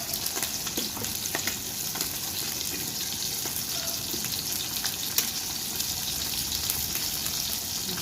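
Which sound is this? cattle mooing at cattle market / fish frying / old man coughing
fish frying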